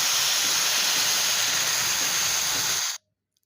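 Asafoetida hits a hot pan of oil while cooking a vegetarian soybean curry, giving a loud, steady, broadband sizzle that holds for about three seconds and then cuts off abruptly into silence.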